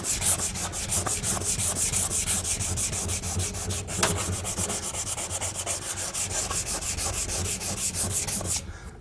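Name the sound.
hand sanding the paint on a Yoder smoker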